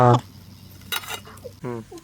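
A metal biryani pot for a 1 kg chicken biryani is set down on a stove with a sharp, ringing clank, followed by a few softer scrapes and clinks of metal as it settles.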